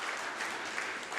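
A crowd claps steadily for a short burst, a dense wash of many hands in a roomy space, with no voices standing out.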